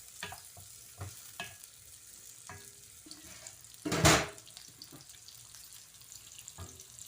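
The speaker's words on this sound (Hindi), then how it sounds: "ये थोड़ा सा सौते करके फिर मैं लहसुन अदरक डालूंगी।" Onions sautéing in a pan for a Saudi toori dish, with faint sizzling and scattered stirring clicks, and one louder burst of sizzle or scraping partway through.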